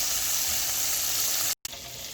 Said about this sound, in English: we're going to finish frying up the rest of these guys